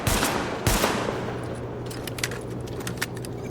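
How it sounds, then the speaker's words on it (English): Sidearm gunfire in the video game The Division during a weapon test, two sharp shots early followed by a rapid rattle of lighter clicks and pops. "Open fire at the highlighted targets."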